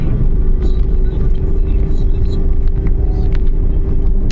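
A Suzuki DA64W climbs a very steep uphill road in second gear at about 3,000 RPM, its engine droning steadily and loud throughout with a constant low rumble.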